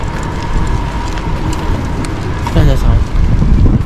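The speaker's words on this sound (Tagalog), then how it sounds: "Sobrang lakas ng hangin." Loud, steady wind roaring and buffeting across the whole stretch on a cloudy day, with rumbling gusts swelling near the end.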